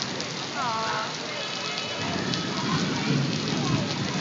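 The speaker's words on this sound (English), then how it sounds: "Downpour." A heavy rain downpour roars steadily and loudly throughout, with a brief voice audible near the start.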